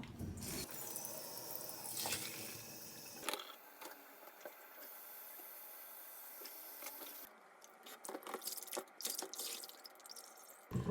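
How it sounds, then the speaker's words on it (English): Water runs from a tap into a sink, starting and stopping with splashing and dripping, fairly faint and close. "I'm going to turn on the cold water."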